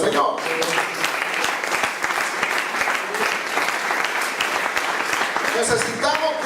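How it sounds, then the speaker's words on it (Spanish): A church congregation applauds loudly and steadily, sustained dense clapping across the whole clip, with voices mixed in underneath. "Denle ese aplauso fuerte al Señor."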